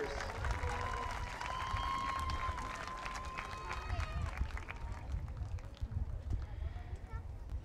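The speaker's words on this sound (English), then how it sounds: "Another round of applause for our wonderful dancers." Audience at a school event clapping for dancers, dense steady applause mixed with crowd noise and cheering voices, moderately distant.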